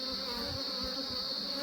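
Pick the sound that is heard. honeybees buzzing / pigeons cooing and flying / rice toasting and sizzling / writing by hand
honeybees buzzing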